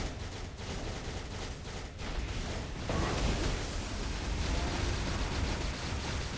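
Continuous gunfire from a unit in the strategy game Cables, a dense rattling fusillade of rapid shots that thickens after about three seconds, loud and steady with no talk.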